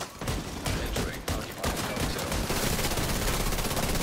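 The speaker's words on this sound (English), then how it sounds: "I hear a rifle belt out there, I know that much." Rifle gunfire in The Division 2 shooter game: dense, sustained bursts of automatic shots rattle almost continuously, loud and close, with brief gaps early on before the firing fills the rest.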